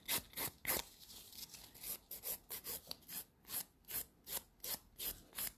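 Short rhythmic rasping strokes of a file or buffer across an acrylic nail, taking off the shine before more product goes on, close up and steady at an even pace, with no talking.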